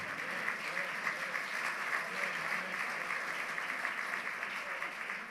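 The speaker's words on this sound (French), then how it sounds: "On peut applaudir le Seigneur Jésus." A church congregation applauds during a sermon, a sustained, even roar of many hands clapping together that holds steady for several seconds at moderate distance.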